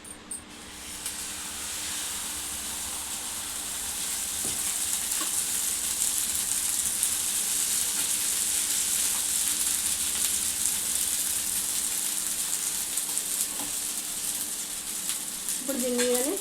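Beaten egg omelette mixture for an egg chapati sizzles in a pan, a continuous broadband hiss that swells louder after a few seconds and holds steady, with a faint clink near the end.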